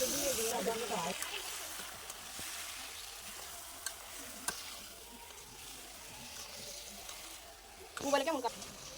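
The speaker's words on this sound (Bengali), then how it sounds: "সেই মেরিনেট করা মুরগি মাংসটা এটা এখন দিয়ে দেওয়া হবে।" Marinated chicken frying in a pot: a soft, steady sizzle with occasional stirring clatter and brief louder bursts near the start and end, quiet overall.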